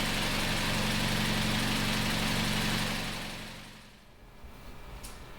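A car engine idles steadily during a workshop diagnostic test, a loud even rumble for about three seconds before it is switched off and the sound dies away into a quiet room.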